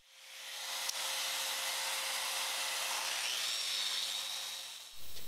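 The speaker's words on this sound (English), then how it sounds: "You can grind down the glue bead in rotary mode, then polish the material in random orbit mode." A Festool RO125 sander grinds and polishes solid surface seams, giving a steady, close broadband whir that holds evenly for several seconds, shifts in tone partway through and then cuts off near the end.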